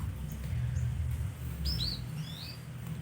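A murai trotol with mutated feathers gives a few thin, high chirps and short sweeping whistles over a steady low hum, fairly faint and close to the background.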